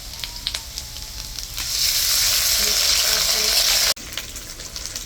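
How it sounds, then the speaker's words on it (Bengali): Potatoes frying in oil as ginger and cumin paste are added, a steady hiss that swells into a louder, broad sizzle when the paste hits the pan, then cuts off abruptly and returns softer. "আলুগুলি লাল লাল করে ভাজা হয়ে গেছে এখন এখন আমি মশলাটা দিয়ে দিই আদা বাটা দিলাম জিরা বাটা"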